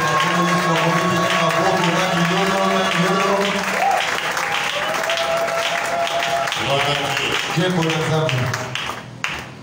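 A church congregation applauds loudly, with sustained, dense clapping that carries over a backdrop of tonal music and voices before tapering off at the end.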